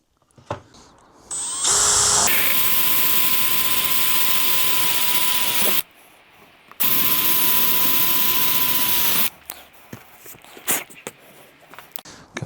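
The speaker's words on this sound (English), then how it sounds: "So I will drill through here, cut it out with a jigsaw" A power drill bores holes through plywood in two long, loud bursts of whining, steady drilling separated by a brief pause, then scattered clatter and handling noises follow.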